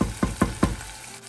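Onions and green chillies sautéing in a pan, with three quick stirring scrapes over a steady low sizzle, close and fairly loud.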